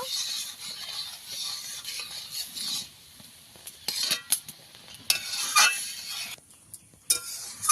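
A spoon stirs a ripe jackfruit mixture as it cooks and bubbles in a pan, making steady scraping and clinking close up, with soft sizzling beneath and a few sharper knocks against the pan.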